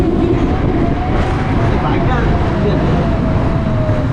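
Train running through a railway tunnel near Ishwardi, Pabna, a loud steady rumble and rattle of the carriages from inside, constant throughout with a faint whine above it.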